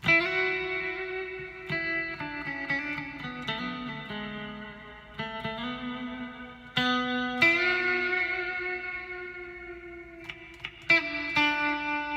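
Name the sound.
electric guitar with loud reverb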